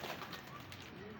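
A pigeon cooing briefly, a soft low call close by amid faint background noise.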